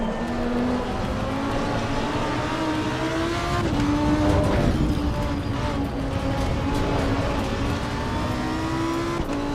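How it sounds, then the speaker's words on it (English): A Lamborghini Huracan lapping the Nordschleife in a racing video game, played with a Lamborghini Revuelto steering wheel; its engine drones loud and steady, pitch climbing through revs and shifting gears, with a surge midway. "We're driving in Nordschleife with a Lamborghini Revuelto steering wheel in a Lamborghini Huracan."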